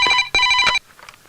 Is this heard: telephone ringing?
yes